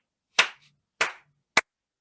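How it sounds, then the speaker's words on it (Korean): Three separate hand claps ring out one by one in a quiet room, crisp and close, with short pauses between them and nothing else heard. "박수 한번 주세요."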